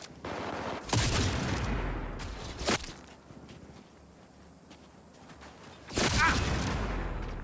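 Bursts of gunfire in Cyberpunk 2077 as turrets are shot down, with two loud sustained volleys separated by a quieter stretch of scattered shots and movement.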